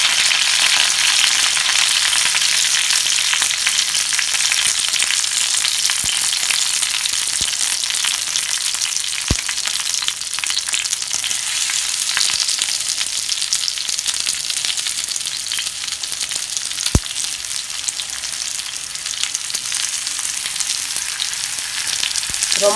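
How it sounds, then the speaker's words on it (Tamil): Fish fries on low heat in coconut oil with a whole sprig of curry leaves, giving a loud, continuous crackling sizzle that holds steady throughout with only a few faint clicks. "கருவேப்பிலை அப்படியே கொத்தோடு வச்சு மீன் வறுத்தா நல்லா இருக்கும்ப்பா"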